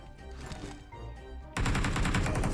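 Light machine gun fire in a video game rattles out as a loud, dense, rapid burst that starts abruptly and carries on to the end.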